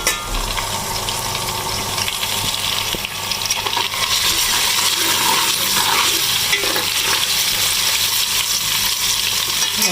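Ginger garlic paste frying with browned onions in a hot pan, giving a continuous loud, close sizzle with scraping stirs throughout.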